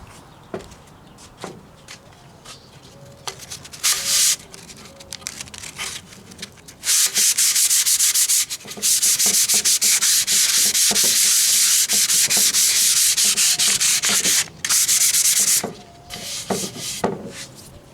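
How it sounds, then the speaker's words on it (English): Hand sanding of wood with 220-grit sandpaper across the grain, loud rasping strokes in long sustained bursts separated by short pauses, near and alone. "I'm going to take some 220 sandpaper"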